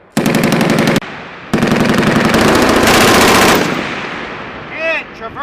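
Two long, loud, close bursts of M240B machine gun fire from U.S. Marines, separated by a short gap, then a fading echo and a brief voice at the end.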